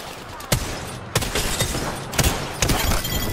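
Fuse's shattercaps going off in the Apex Legends video game, a series of four sharp explosive bursts spaced about half a second to a second apart over continuous rumbling combat noise.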